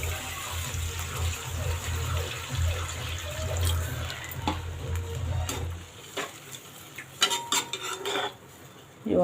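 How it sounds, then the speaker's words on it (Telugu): Water pours into a pan with onions for puri curry, a steady low gush for about six seconds, followed by light clinks and scrapes of a utensil against the pan. "ఇప్పుడు వాటర్ వేసుకుందాము."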